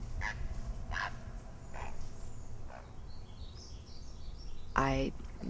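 Birds call in an open outdoor setting: faint, scattered cries come through a steady background, then a single louder, honking goose-like call rings out near the end.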